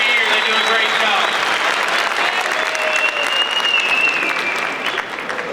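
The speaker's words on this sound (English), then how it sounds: "give that band one more round of applause" A commencement audience at a high school graduation ceremony gives the band a sustained round of loud, dense applause that carries on without a break, tapering slightly near the end.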